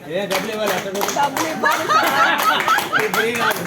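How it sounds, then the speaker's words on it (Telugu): An audience at a yoga group's 11th anniversary celebration in Koritipadu, Guntur, claps for Venkata, a dense patter of hands running steadily throughout, mixed with voices and light laughter. "వెంకట గారికి ఒకసారి చప్పట్లు కొట్టండి"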